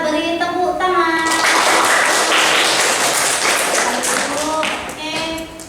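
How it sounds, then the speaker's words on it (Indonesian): A classroom of students bursts into a few seconds of brisk, dense clapping after a group presentation, with a teacher's voice before and after. "Dulu kita beri tepuk tangan."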